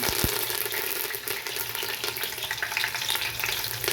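Cumin seeds, a bay leaf and curry leaves sizzling in hot oil for dal khichdi, a steady close, bright crackling fry with a spoon occasionally stirring, no speech.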